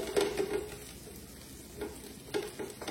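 Fresh chopped garlic sizzles in a hot pan, a soft steady frying hiss with light scraping stirs at the start, middle and end, quiet and close with no talking.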